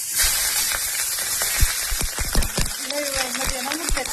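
Green chilies fry in hot oil in a pan, a steady crackling sizzle with bursts of spattering, running continuously beneath someone talking.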